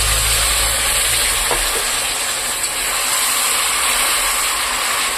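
Hot water hits melting sugar in a hot pan, setting off a loud, steady, broadband sizzle and hiss of steam that carries on evenly throughout.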